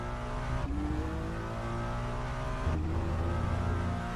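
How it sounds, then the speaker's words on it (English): A Ferrari V6 race car engine in RaceRoom, revving high with steady tonal whine and two sharp gear shifts, loud and close throughout with no talk. "the Ferrari doesn't actually sound that Ferrari V6-ish in RaceRoom"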